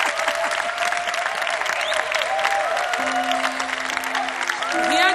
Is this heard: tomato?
no